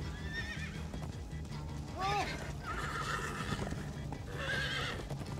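Horses whinnying and neighing in a hectic moment of the Minecraft: Story Mode video game, with clip-clop hoofbeats under voices; the calls rise and fall in sharp bursts around two seconds and again near the end.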